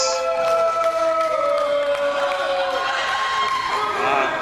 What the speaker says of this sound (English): people are actually booing her